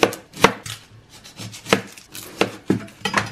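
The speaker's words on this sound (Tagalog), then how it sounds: "Ito pala muna sibuyas yung gayatin natin" An onion being chopped with a knife on a board, sharp irregular thuds close by in quick bursts with short pauses, no voices.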